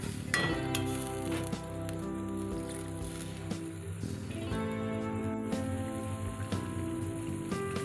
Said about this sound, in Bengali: এবার জল ঢেলে দেবো খুব বেশি জলে দেব না